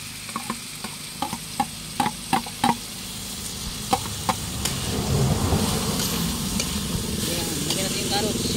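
Carrots tossed into a pan with Baguio beans and stir-fried, first a run of sharp scraping and clacking utensil strokes, then a steady loud sizzle close by.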